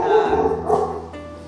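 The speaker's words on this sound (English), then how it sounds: "he barks sometimes and adds a little color to these videos" A household dog gives a short yippy bark and whimpery vocalization, fairly close and loud, lasting about a second before fading.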